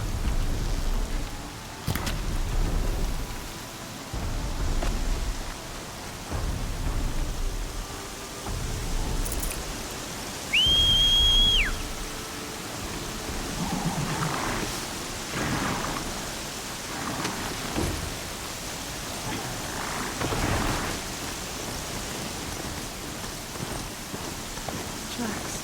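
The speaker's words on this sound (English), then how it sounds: "Here comes the rain." Rain falls steadily in the game Horizon Zero Dawn with thunder rumbling now and then, a continuous broadband wash under footsteps, a brief chirp and intermittent talking.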